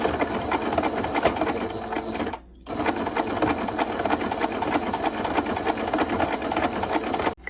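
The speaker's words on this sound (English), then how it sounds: "try to just easily guide the material through" A sewing machine, standing in for a serger on stretchy crochet fabric edges, runs in a fast, steady mechanical whir with rhythmic needle clatter, close and loud, pausing briefly once before carrying on.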